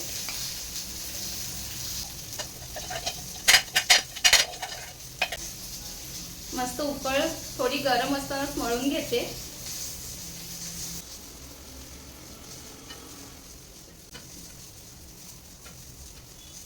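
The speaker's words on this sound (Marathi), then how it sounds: "एका साईडला बोंबील फ्राय होत आहे" Bombil fish frying in a pan with a steady sizzle throughout, while someone talks and briefly kneads dough nearby, adding soft clatter and patting sounds partway through.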